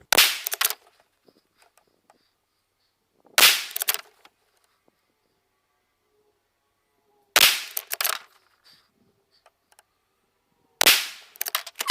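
Four loud, sharp 6.5mm Creedmoor rifle shots firing Federal Premium Trophy Copper 120-grain ammunition, spaced a few seconds apart, each a close crack with a short decaying tail and quiet between.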